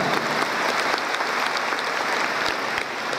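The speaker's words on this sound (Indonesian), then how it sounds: "kita beri tepuk tangan yang hangat untuk semua panitia" Audience at a university graduation ceremony, Universitas Andalas, clapping continuously in a dense, even wash of applause from a large hall crowd, steady throughout with no voices over it.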